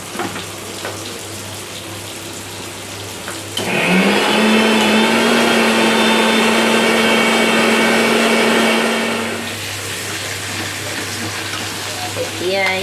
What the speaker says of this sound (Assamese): এবাৰ মিক্সিত পিচি ল'ম।